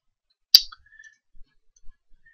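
A computer mouse clicks once, sharp and close, in a quiet room while working in Cisco Packet Tracer, followed by a few faint softer ticks.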